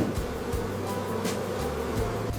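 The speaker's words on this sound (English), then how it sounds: "The nurse bees are waiting to feed them." Honey bees buzz steadily around a hive at a large bee farm producing royal jelly in Japan, a dense, continuous close-up drone with no voices.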